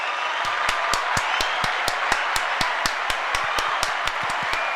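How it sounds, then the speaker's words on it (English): A played clapping sound effect: a steady run of sharp, evenly spaced claps over a constant bed of applause-like hiss, loud and alone with no voices. "I have a clapping sound effect."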